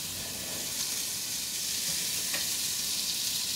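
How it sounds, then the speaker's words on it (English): Steady, dense sizzling of butter frying in a hot pan, a constant crackling hiss with no voices. "Oh, that's nice and sizzling up."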